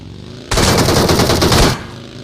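Gunfire in BGMI (Battlegrounds Mobile India), a loud automatic burst of rapid shots lasting just over a second, starting abruptly and then cutting off to quieter game background.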